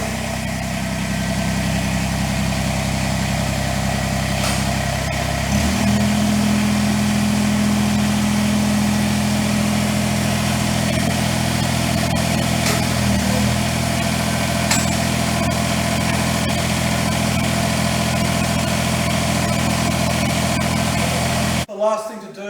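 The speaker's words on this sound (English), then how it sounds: "we're going to start the tractor" A Kubota BX tractor engine starts and idles with a steady, loud low rumble and a slight shift in tone partway through, running continuously before cutting off abruptly at the end.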